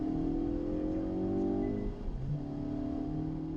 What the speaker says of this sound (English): The car honestly sounded good for a little 4-cylinder turbo.